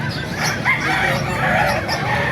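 White Kelso chickens and roosters cluck and call close by at a market in Calumpit, a busy overlapping flock with no clear single crow standing out.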